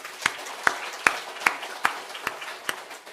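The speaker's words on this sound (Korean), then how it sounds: "하나님께 영광의 박수 돌리겠습니다" A church congregation claps in unison, eight sharp, evenly spaced claps at a steady rhythm over a quiet background, fairly soft and without talk.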